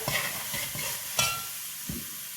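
A spoon stirs onion, garlic and cilantro seasoning cubes into rice frying in a pot for Puerto Rican yellow rice with luncheon meat, giving several scraping strokes over a soft continuous sizzle, close and without talk.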